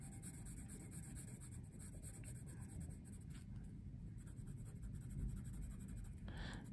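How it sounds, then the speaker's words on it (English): A soft 6B pencil makes short horizontal strokes on paper, giving a faint, close, continuous scratchy rasp with small repeated pulses and no talking. "Now I'm using some short pencil strokes."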